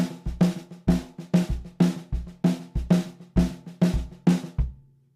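A snare drum plays a syncopated 2-3 type figure in a jazz drum clinic setting, about a dozen crisp, loud hits in a steady repeating rhythm, with no other instruments or voices.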